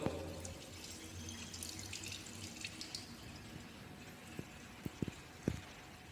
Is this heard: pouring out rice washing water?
yes